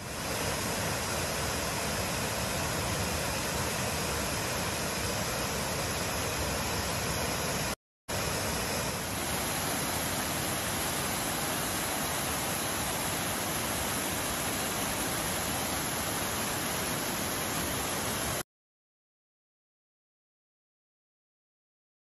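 A waterfall in Una National Park, Bosnia, roars as a loud, steady broadband rush of falling water, unbroken apart from one very brief dropout midway, then cutting to silence for the final few seconds.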